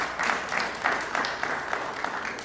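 A crowd at a City of Little Rock press conference claps in a brisk, even burst, the applause carrying on for a couple of seconds with no voices over it.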